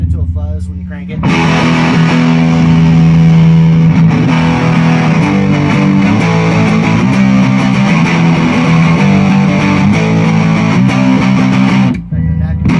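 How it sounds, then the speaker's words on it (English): Electric guitar played through a Sweet Honey Bees overdrive pedal cranked almost to fuzz, giving a loud, thick, saturated sustained riff with steady chords that rings for about eleven seconds before cutting off. "Almost get it to a fuzz when you crank it."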